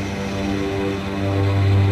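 Propeller airplanes at an airport terminal, a steady close engine drone with tonal hum that swells louder toward the end, no voices.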